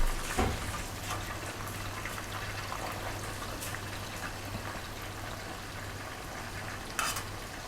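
Sim jil frying in a pan gives a steady, even sizzle that stays close, with a low hum beneath it and a couple of brief clatters.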